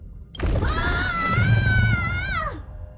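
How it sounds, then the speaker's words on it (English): A long, loud scream rises sharply and holds a wavering pitch for about two seconds before trailing off, set against rumbling low-end game audio in Honkai: Star Rail. "Did someone scream?"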